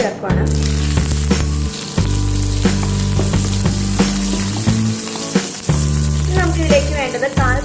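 Chopped ginger and green chili dropped into hot oil: loud, continuous crackling and sizzling with sharp pops and spits throughout, alongside a steady low hum; no speech.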